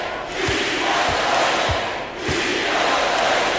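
A large arena crowd roars and cheers continuously in the NBA 2K24 basketball game, Los Angeles Clippers vs Indiana Pacers, with a brief dip before swelling again and faint low thuds underneath.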